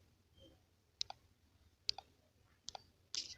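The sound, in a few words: mouse clicking on the save button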